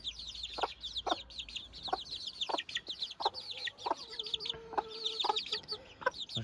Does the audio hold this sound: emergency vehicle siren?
no